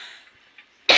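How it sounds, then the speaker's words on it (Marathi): A single short, loud cough bursts out at the very end after near-quiet, from a person who has had a cough along with a child in the home. "मला पण खोकला येतोय"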